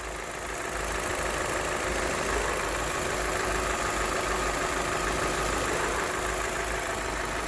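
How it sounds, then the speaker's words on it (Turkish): A 115 hp Opel Astra H with the 1.6 XR engine and a loss-of-pull problem idles steadily at close range, giving an even, continuous mechanical hum and clatter. "Evet aracımızı çalıştırdık. Aracımız Opel Astra H kasa XR motor."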